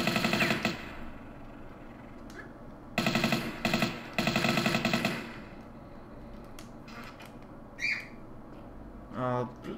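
Gunfire in Tomb Raider III, in several loud bursts spread through the stretch between quieter gaps, with a few brief chirpy game sounds and a low thump near the end.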